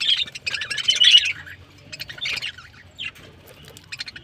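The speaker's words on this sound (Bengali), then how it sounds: "আর এই পাখিগুলো দেখুন, আমার কলোনির সারা পাখিগুলো সব এখন খাঁচায় রেখেছি" Caged pet birds from a home colony chirp and twitter in bright, busy bursts close by, with quieter scattered tweets between the louder flurries.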